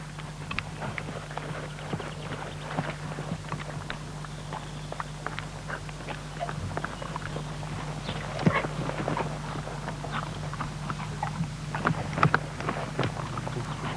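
Soft, irregular hoofbeats of a horse walking over ground poles during jumping training, moderately near, over a low steady hum and light outdoor noise.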